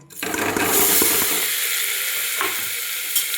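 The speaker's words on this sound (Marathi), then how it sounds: "आता आपण तुपात भाजून घेऊया." Coarse cracked wheat roasting in hot ghee in a pan, with a steady loud sizzle and frying crackle as it is stirred, close up and with no voices.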